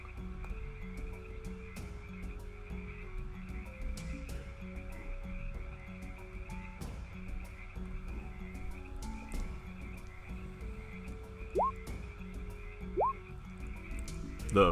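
A dense chorus of frogs croaks steadily, a fairly quiet, continuous layered ambience of trills and low calls with a few sharper rising chirps near the end.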